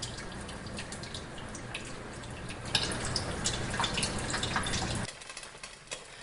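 Water drains from cooked rice in a metal strainer, a soft trickling and dripping that grows busier midway and then drops off to a quiet drip.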